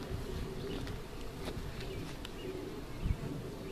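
Honey bees from freshly installed package hives fill the air with a constant droning hum, even and moderately close, broken once by a short thump near the end.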